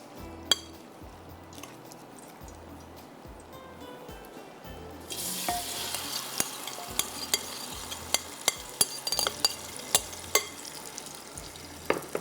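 Qeema being mixed with tomatoes in a clay pot, quiet wet stirring and scraping with scattered sharp clicks of a spoon against the pot, close-up with no talking.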